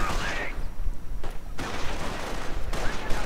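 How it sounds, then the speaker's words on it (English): Mortar rounds and gunfire in a WWII strategy video game, dense rumbling bursts of explosions and shooting that fill the clip loudly with only brief gaps, no speech over them. "Schwimmbach getting hammered, mortar rounds falling."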